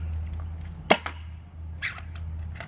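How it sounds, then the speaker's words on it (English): Project Aurora foam dart blaster firing Nexus Pro darts from a Talon magazine: a single sharp snapping shot with a short mechanical rattle, then a fainter follow-up click, close and otherwise quiet. "So firing Nexus Pro darts from a Talon mag,"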